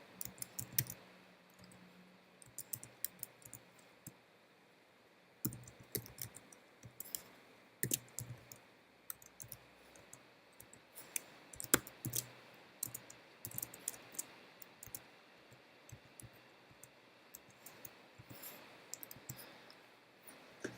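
Code is typed on a computer keyboard in steady, irregular runs of light, close clicks and key taps, continuing alone with brief pauses.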